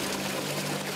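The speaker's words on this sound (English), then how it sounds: "The water rushes in." Water rushing into a sinking car: a loud, continuous broadband gush and pour filling the cabin, steady for about a second with no voices.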